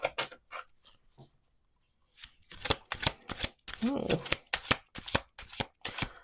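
Playing cards being shuffled on a table during a card game, a brief riffle early on followed by a longer run of sharp, rhythmic snapping riffles close to the microphone, with a short spoken interjection.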